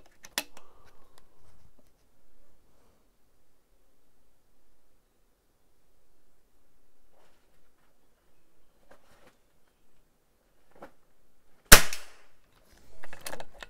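During a target camera field test, a single sharp gunshot cracks out loud and close after a long near-silent stretch, preceded by faint ticks and rustling, with a few brief bumps following.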